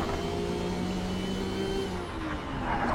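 An Aston Martin race car in the sim racing game Project Cars, its engine holding a steady, loud drone with layered harmonics throughout, briefly dipping near the end before building again.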